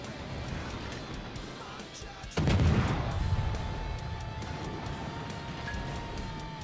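A heavy ship-gun salvo from a World of Warships destroyer booms out suddenly partway through. It is followed by a sustained rumbling tail over continuous game background noise.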